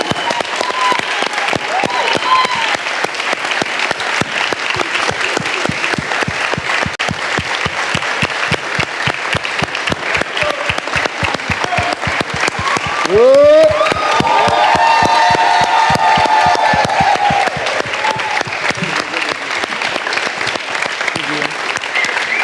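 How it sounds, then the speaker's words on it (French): A crowd applauds loudly and continuously at the close of a debate, dense sustained clapping with a rise of whoops and cheering voices partway through. "On s'applaudit."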